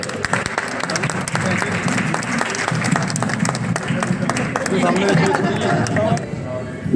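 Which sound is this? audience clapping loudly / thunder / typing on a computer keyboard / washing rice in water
audience clapping loudly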